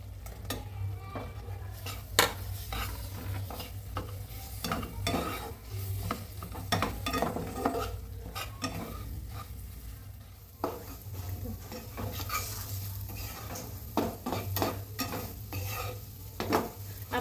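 Semolina roasting in a pan for sweet sheera with banana, stirred with a utensil in repeated scraping strokes and light taps on the metal over a soft, continuous sizzle, close and fairly quiet.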